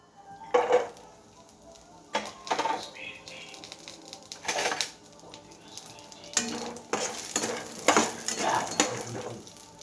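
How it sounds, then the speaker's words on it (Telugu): Tamarind chutney ingredients frying lightly in a little oil in a pan, with intermittent spatula clatter and scraping in bursts over a soft sizzle, heard close up in a quiet kitchen. "ఇది లైట్గా వేయించుకుందాము"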